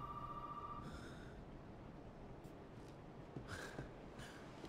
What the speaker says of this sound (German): Oh, jetzt auch noch Telefon.